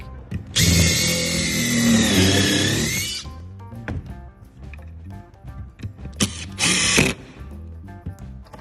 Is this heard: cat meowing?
no